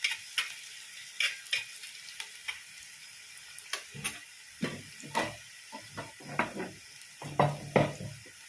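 Chicken for biryani fries in a pan while a utensil stirs and scrapes it, giving a steady sizzle broken by irregular clinks and scraping strokes, close and moderately loud.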